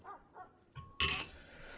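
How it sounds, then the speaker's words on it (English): Dogs bark and yip a few times, short sharp bursts at a moderate distance, with a louder burst near the middle and some clinking nearby. "Damn dogs, bro."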